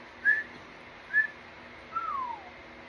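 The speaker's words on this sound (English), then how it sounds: "I'm whistling the microphone." Someone whistles into a microphone: two short clear notes followed by a longer falling note, close and alone against a quiet background.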